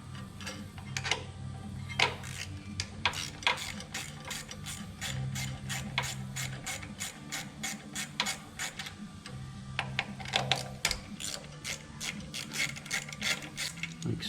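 Ratchet with an 8mm deep well socket backing out carburetor studs on a Craftsman LT2000 riding mower, rapid close clicking in repeated bursts with short pauses between strokes.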